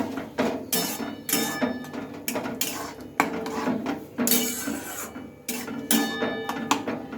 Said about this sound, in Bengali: এবার এটাকে আমি একটু নেড়ে চেড়ে নেব